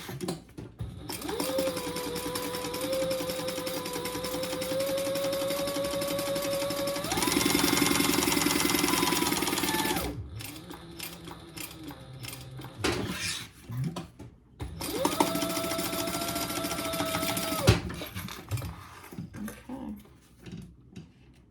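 A sewing machine runs a basting stitch in a few sustained bursts, a fast steady whirring hum that stops and restarts, with quiet handling noises in the gaps.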